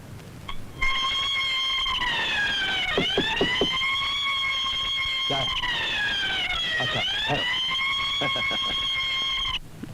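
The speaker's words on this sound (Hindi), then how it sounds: "जैसे इस घेरे के पार कोई चीज या किसी का हाथ जाए तो ये अलार्म ऑटोमेटिक बजने लगता है।" An automatic electromagnetic belt alarm wails loudly in a rising and falling siren-like tone, cycling twice over several seconds, with voices underneath, in a Bollywood film scene.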